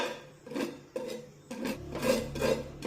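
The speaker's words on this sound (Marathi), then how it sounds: "मंद आचेवर ही खसखस भाजून घेऊया" Poppy seeds roast in a pan over a low flame while a spoon or spatula stirs them, giving repeated close raspy scraping strokes in a loose rhythm, with no talk.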